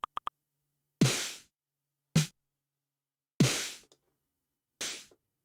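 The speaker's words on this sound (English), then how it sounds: "Now we have our Lindrum snare into Backbone." Original LinnDrum snare sample firing in isolated hits, four sharp noisy cracks with quick decays separated by silence, preceded by a few tiny clicks.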